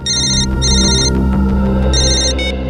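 A telephone rings in a police office, its electronic ringtone sounding in three loud repeated bursts with short gaps between them.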